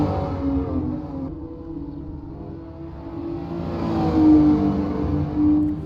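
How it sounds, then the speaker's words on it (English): GT4 race cars lap the Brands Hatch circuit during qualifying at the 2024 British Grand Prix round. A continuous engine drone shifts in pitch and swells louder toward the end as cars pass. "all the drivers are making their way around the circuit here at Brands Hatch for the British Grand Prix"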